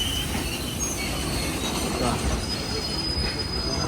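A diesel freight train with many wagons rolls past close by, a loud, continuous rumble with shrill wheel squeal running through it and no voices.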